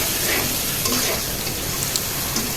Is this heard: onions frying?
yes